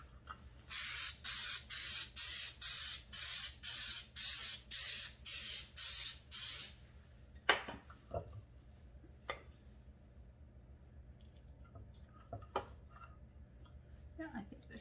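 Cooking spray is squirted onto a muffin tin for banana oatmeal muffins in about ten short, evenly spaced hissing bursts, close and crisp. A few light clicks and clatters of handling follow.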